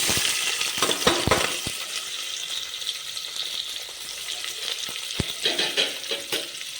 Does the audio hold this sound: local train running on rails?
no